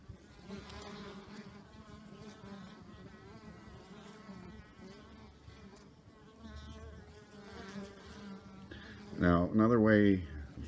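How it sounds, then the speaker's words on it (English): Honey bees buzz steadily as they fly out of a nuc box, a close, continuous hum, and a single bee drones loudly past near the end. "when they come out, they immediately take off and go foraging"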